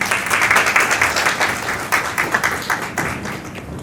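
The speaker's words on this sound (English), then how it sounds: "please join me in welcoming our founder director of AIB, Dr. Neha Srivastava" An audience at an American Institute of Balance India Academy event applauds to welcome the first speaker, a dense, steady round of clapping that holds for several seconds and then slowly thins.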